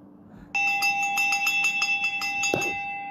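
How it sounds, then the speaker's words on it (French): A bell rings in a rapid, steady series of bright metallic strikes that starts abruptly and keeps going, with a sustained ringing tone and a brief louder clunk near the end. "Il me faut une bonne cloche pour vous."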